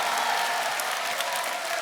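An audience at a 2023 school and campus prayer event claps together in a dense, continuous wash of applause, close and fairly loud throughout.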